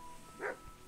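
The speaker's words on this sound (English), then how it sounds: "Ooh, a dog." A single short dog bark or yelp from a dog in the medieval role-playing game Kingdom Come: Deliverance, moderately close and brief, over a faint steady game ambience.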